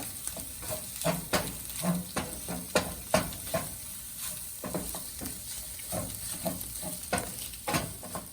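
A pan of egg fried rice with spices sizzles steadily while a spoon scrapes and stirs it in irregular strokes, close and moderately loud, with no talking.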